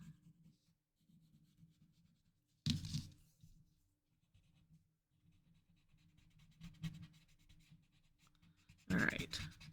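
A pencil drawing a Zentangle pattern on paper, soft scratchy strokes rubbing on and off quietly and close, with a few louder brushing scrapes standing out.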